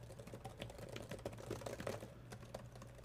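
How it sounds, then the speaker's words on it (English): Quick keystrokes patter steadily on a tactile USB keyboard with a built-in touchscreen, soft clicks close by over a low background hum, with no talking. "And if I go numlock, then I'm typing numbers."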